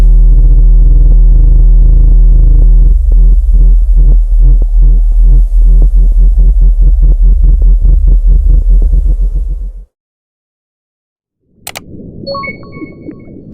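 A modified version of the 1997 Bloop underwater ocean recording plays as a loud, deep throbbing drone. The drone breaks into rapid pulsing, cuts to silence, then returns as a fainter rumble with scattered high pings.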